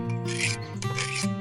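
A knife blade rasps back and forth across a coarse, gritty sharpening stone likened to sandstone, a close, steady scraping in two continuous strokes with strong tonal ringing from the steel.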